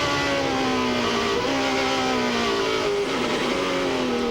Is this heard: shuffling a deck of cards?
no